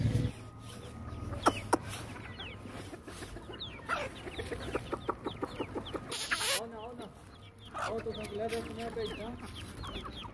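Hens cluck repeatedly in a busy, close run, with a rooster's rougher calls joining in and a brief louder burst midway.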